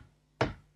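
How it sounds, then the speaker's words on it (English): A single sharp knock on a door, a story-tape sound effect for a wolf rapping at the brick house door; one loud close thud with a short decay, alone with no voices. "He knocked at the door."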